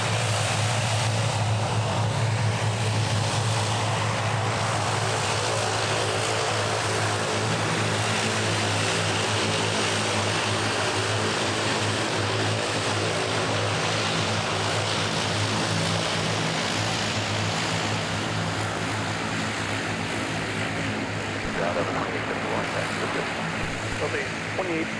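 An ATR turboprop airliner at Minneapolis airport gives a steady, droning propeller hum with a strong low tonal buzz that stays constant for the whole stretch, with a faint voice in the background.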